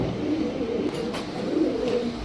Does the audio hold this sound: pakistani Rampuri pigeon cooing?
yes